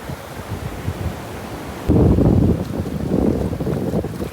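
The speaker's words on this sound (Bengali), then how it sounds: "এখন জোয়ার না, ওই জন্য ছোটো ঢেউ হচ্ছে এখানে।" Wind buffets the microphone over small, low waves washing in at the Gangasagar seashore, a steady broadband rush that swells louder about halfway through, with no voices.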